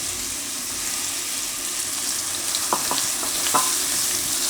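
Tomatoes fry and sizzle in a pan while being stirred for a Gujarati green chickpea and tomato curry. A steady hiss runs throughout, with a few sharp spoon scrapes and clinks near the end.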